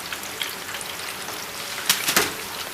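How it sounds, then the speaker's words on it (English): Hmong egg rolls fry in hot oil, sizzling and crackling continuously at close range, with a few sharper pops and spatters standing out near the end. "That's what you want when you fry egg roll."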